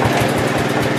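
An old tractor engine that has sat unused chugs in a fast, loud, rhythmic idle close by, its low thumping pulses repeating evenly.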